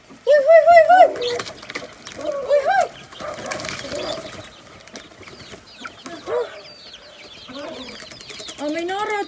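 Chickens and young chicks give short high peeps and soft clucks in scattered bursts at close range, with a person talking nearby between the calls.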